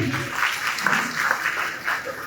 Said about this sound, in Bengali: ওনার জন্য আমরা একটি জোরে হাত তালি